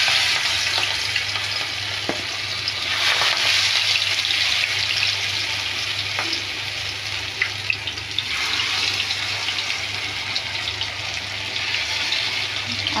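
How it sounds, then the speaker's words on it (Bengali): Leaves coated in mustard and lentil paste fry in hot oil in a wok, a loud continuous sizzle and crackle throughout with faint occasional clinks and a low steady hum underneath. "এখন আমি কড়াইয়ে তেল গরম করে এগুলো ভাজবো।"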